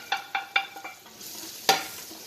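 Ginger, garlic and onion in a pot, with a run of quick scraping stirs near the start and one sharper scrape later. Only a faint sizzle sits underneath, and no one talks.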